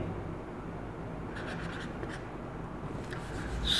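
Pen scratching on paper while a chemistry question is written out, faint short strokes in small bursts over a steady room hiss, with no talking.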